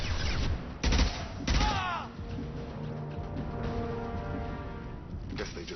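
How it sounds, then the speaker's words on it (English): Blue Suns mercenaries and Vorcha fire weapons in a Mass Effect 2 street fight. A few sharp, loud shots come early, then quieter scattered fire continues under other game sounds. "Blue Suns and Vorcha shooting anything that moves"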